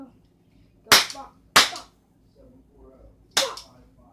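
Three sharp cap gun shots ring out in a video game, loud snapping cracks spaced irregularly over quiet background hum.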